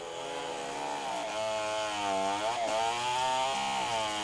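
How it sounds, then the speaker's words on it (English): A chainsaw roars steadily in a Borneo jungle, its engine pitch rising and dipping as it bites into tree wood, loud and continuous throughout. "the chainsaw is hard at work making its own music"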